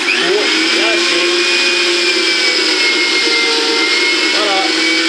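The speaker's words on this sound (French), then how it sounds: "venir mettre notre viande et de la passer pour la hacher" Meat being minced in an electric meat grinder, whose loud, steady motor whine holds for the whole stretch with slight pitch wobbles as the meat feeds through.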